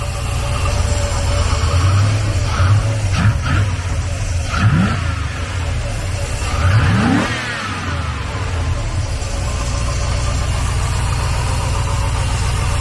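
A car engine with a noisy belt idles steadily with a constant whirring hum, briefly revving a couple of times, nearby and fairly loud throughout.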